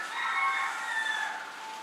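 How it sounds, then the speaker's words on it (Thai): A bantam chicken calls in a continuous, slightly strained crow, close and fairly loud, with no talking. "โอ้มีไก่ด้วยไก่แจ"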